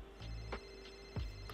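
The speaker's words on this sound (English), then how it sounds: "phone is ringing" A mobile phone rings indoors with repeated short electronic ring bursts in a regular pattern, faint and steady against a quiet room with no one speaking.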